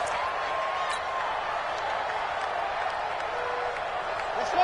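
Home crowd noise in a football video game during a playoff game, a steady broad roar of cheering with scattered claps and whistles, continuous throughout and moderately loud.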